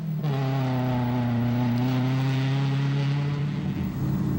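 A 1991 Volkswagen Golf GTI rally car at the 2006 Rallye des Draveurs holds a loud, steady engine drone at nearly constant pitch, with a brief change near the end.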